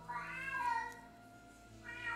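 A cat meows twice, long drawn-out cries with a wavering pitch, the first loud and sustained, the second starting near the end.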